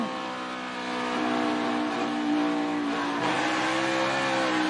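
A NASCAR race car at the 2017 Go Bowling 400 gets back into the throttle as it spins around, its engine roaring with shifting revs and a harsh rising pitch, loud and continuous.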